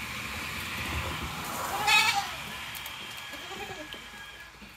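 Goats bleat on a farm in a couple of short wavering calls, close but fairly soft, while people talk over a low background hum.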